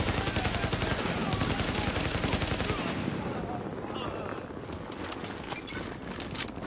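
Automatic weapon fire in The Division game: rapid, closely spaced shots rattle loudly for a few seconds, then thin out into scattered, quieter bursts.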